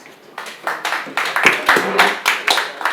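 Applause for a school headmistress at an Ibadan curriculum workshop: a small audience claps in a steady, moderately loud patter that builds after a quiet start and continues for a few seconds.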